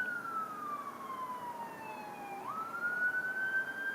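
An ambulance siren sound effect wails in a single long sweep, falling slowly in pitch and then rising again, fairly loud and clear over faint background noise with no talking.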